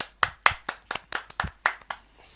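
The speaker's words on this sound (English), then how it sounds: "round of applause for all the travelling support" Clapping for travelling football supporters at the last game of the season: a handful of close, distinct hand claps in a quick, uneven rhythm, loud and alone, trailing off at the end.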